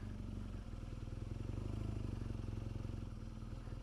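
A BMW GS 1200 motorcycle engine drones steadily and close while the bike climbs a slippery off-road slope, the low rhythmic thrum staying loud throughout with slight surges.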